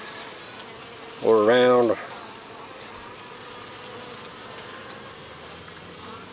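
Honey bees buzz steadily around a colony with laying workers, where a queen sits in a push-in cage; someone speaks briefly near the start over the continuous hum.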